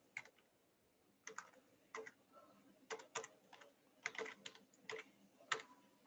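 Keys clatter in short irregular bursts on a computer keyboard, fairly quiet and close, with pauses between runs of typing and no voices.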